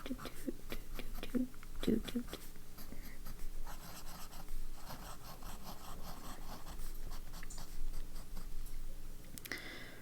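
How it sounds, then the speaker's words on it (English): Fountain pen scribbling on paper with steel-nib shading ink, a soft scratchy rubbing that comes in short strokes over a steady low hum, close and fairly quiet. "I'm still going to do the scribble down here"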